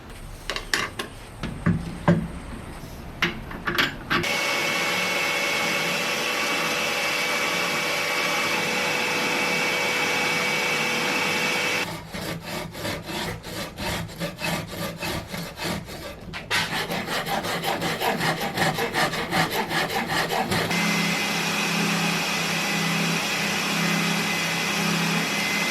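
A spinning sanding bobbin shapes a wooden guitar neck, giving a close, steady rubbing and rasping drone broken by a few pauses and shifts in pitch as the wood is pressed against it.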